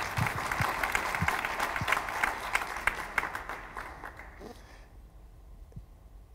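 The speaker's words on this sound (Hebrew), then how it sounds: "כן, מחיאות כפיים." Audience applause at a Hebrew-language conference, a dense wash of clapping from a large crowd that holds steady, then thins and fades out toward the end, leaving near silence with a few scattered claps.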